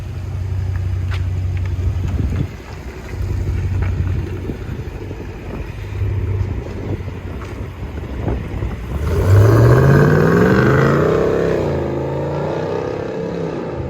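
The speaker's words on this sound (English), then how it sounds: "Power Wagon 2021 with Flowmaster Outlaw and still factory resonator 5-inch tabs" A 2021 Ram Power Wagon with a 6.4L Hemi, Flowmaster Outlaw exhaust, factory resonator and 5-inch tips rumbles at a steady idle, then revs up loudly with a rising, throaty exhaust roar that holds and eases back.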